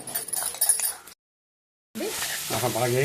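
Potato pieces with fenugreek leaves frying in a pan give a brief sizzling hiss, then a short silence, followed by a voice speaking over continued cooking.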